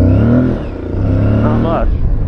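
Aprilia Tuareg 660 motorcycle accelerating off-road in the desert in off-road mode with traction control on: a close, rising engine note under a voice.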